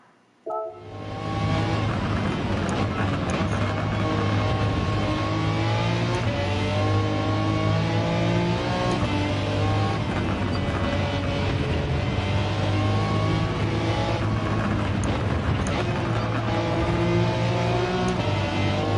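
Race car engines roar steadily throughout, with rising and falling revs as gears change and cars run close, including an NSX being overtaken in a Gran Turismo 7 race driven in VR.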